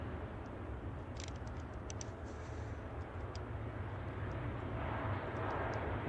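A United Boeing 787 Dreamliner takes off at San Francisco Airport, its engines a broad, distant steady roar that swells slightly toward the end, with faint high chirps scattered above.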